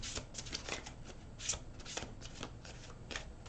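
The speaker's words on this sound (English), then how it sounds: "One more shuffle." Cards riffle and snap in a steady shuffle, a run of crisp fluttering bursts close by, fairly quiet with no talking.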